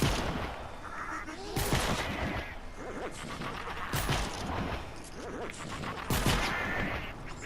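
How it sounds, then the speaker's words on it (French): Repeated gunfire bursts from a Fortnite Save the World zombie fight, with several sharp volleys at intervals over a busy bed of game sound effects, a voice talking over the action. "Faut lui tirer plein de fois dessus pour qu'il disparaisse"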